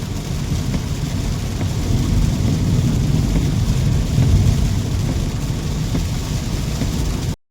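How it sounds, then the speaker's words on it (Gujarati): Heavy monsoon rain pours steadily in Bhavnagar, Gujarat, a dense unbroken roar close by with low rumbling thunder mixed in throughout, cutting off abruptly at the end. "આટલો વરસાદ છે ભાવનગરમાં"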